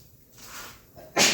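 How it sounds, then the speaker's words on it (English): A single short, sharp sneeze bursts out at the end after a moment of quiet breathing. "I think I might have a sneeze"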